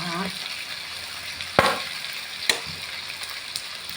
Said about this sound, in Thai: เราก็จะผัดจนปลาดุกสุกได้ที่นะคะ